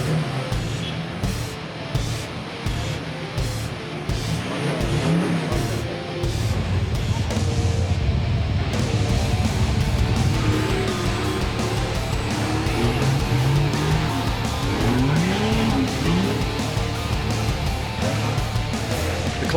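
A 4WD grinds its way up the steep, rough Powerlines Track in Western Australia, a steady close engine drone with bumps, rattles and brief tyre noise over nearly twenty seconds.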